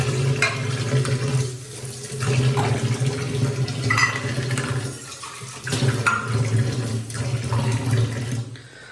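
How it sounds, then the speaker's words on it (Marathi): Running tap water splashing steadily in a sink while lunch tiffin boxes are washed, a continuous near wash with brief dips and surges as the dishes are moved under the stream. "डबे धुवून घेतो."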